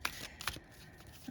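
Oracle cards are pulled and shuffled in a quick, faint riffle of papery flicks lasting about a second, quiet and close, with no talk.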